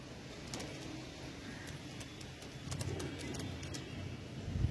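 Young Kalshira pigeons coo softly at close range, low rumbling calls under steady background noise, with a few sharp clicks and flutters.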